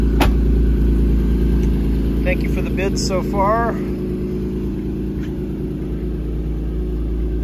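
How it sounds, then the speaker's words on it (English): A 1992 Honda NSX idling after a cold start, a steady close engine rumble that settles slightly lower partway through, with someone talking over it. "the cold start of the car"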